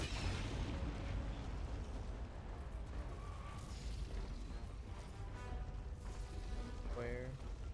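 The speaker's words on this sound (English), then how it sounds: "I can napalm barrage." Napalm barrage strike in a video game, a dense, continuous roar of rumbling explosions and crackling bursts filling the whole stretch, with a brief tonal whine near the end and no voices.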